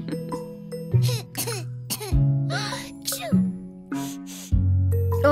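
A young child coughs a few times in a sick-child scene from a German children's song, the coughs falling between sung lines over a bouncy music backing.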